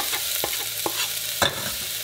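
Shallots hit hot olive oil with a steady close sizzle, punctuated by a few sharp pops and clicks of a utensil stirring against the pan, the crackle flaring briefly near the end.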